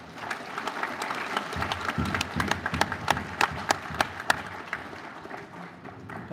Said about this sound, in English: One more round of applause for